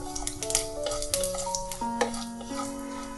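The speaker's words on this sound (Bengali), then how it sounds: "ফোড়নটাকে একটু তেলে নাড়িয়ে চাড়িয়ে নিচ্ছি।" Panch phoron spices and two dried red chillies stirred in hot oil for a Bengali fish curry, with a steady close sizzle and scattered scraping and clinking of the spoon against the pan.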